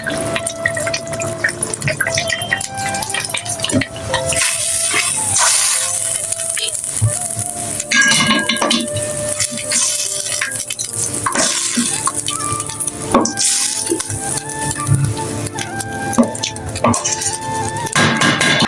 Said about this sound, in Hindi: अब यहाँ इसमें डालेंगे हम ये क्रीम, बस बहुत ज़्यादा नहीं डालनी है, हमने डालनी है क्रीम बस हाफ पैकेट।